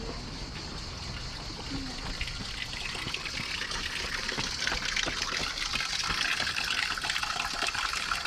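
Water runs steadily from a public drinking fountain in Antibes, a continuous splashing gush close to the microphone with faint outdoor background and no talk.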